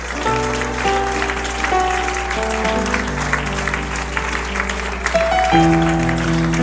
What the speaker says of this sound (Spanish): Aplauda, aplauda, aplauda, aplauda la presencia de Dios.